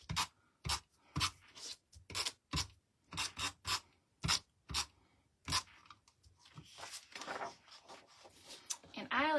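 A tape runner rolls adhesive across a scrapbook layout page in a series of short, sharp scraping clicks at an irregular rhythm, close by, followed by softer rustling and quiet handling of paper.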